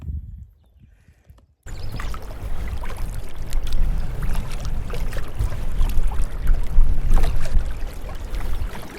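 A canoe glides on open water on a northbound trip, with steady splashing and swishing paddle strokes close by after a brief quiet start, continuous water wash throughout.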